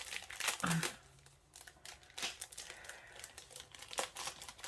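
Thick cardboard quote pieces being popped out of a punch-out sheet, heard as close crinkling and crisp snapping with a few sharper pops in uneven bursts, fairly quiet and without speech.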